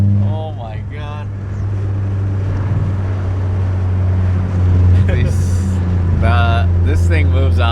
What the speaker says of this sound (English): That sounded good though when you bounce off the rev limiter.